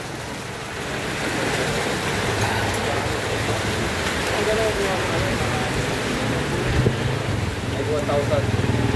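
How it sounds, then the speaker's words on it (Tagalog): Heavy rain pours in a steady, loud roar, with voices talking faintly underneath. "Ulan, kalakas."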